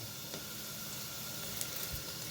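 Onions frying in oil in a pan for a bitter gourd curry give a soft, steady sizzling hiss, fairly faint and even throughout, with a couple of small pops and no talking.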